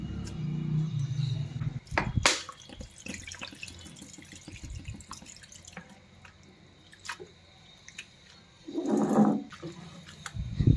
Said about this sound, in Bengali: এরপর আলুটা আমি জলের মধ্যে ভালো করে ধুয়ে নেব।